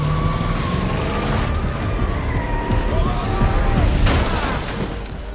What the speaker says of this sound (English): Tom slammed the gas pedal to the floor.